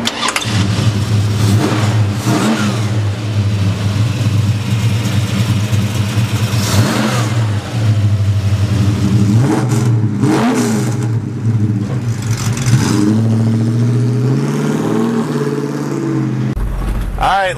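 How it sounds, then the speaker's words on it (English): A 1968 Plymouth Barracuda classic muscle car starts up and revs, its loud V8-style engine rumbling close by with repeated throttle blips rising and falling over steady idle, with a voice speaking over the engine. "Let's take this Cuda for a ride."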